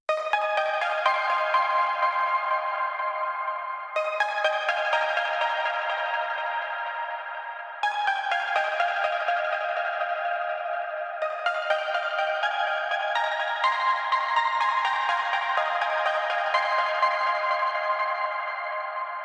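Main lead melody of an Anjuna-style trance breakdown, a bright layered synth playing sustained chords with repeating note runs, heavy echo and shimmer, returning in roughly four-second phrases, loud and clear with no talking.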